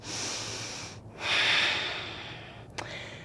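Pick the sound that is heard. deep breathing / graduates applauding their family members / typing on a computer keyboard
deep breathing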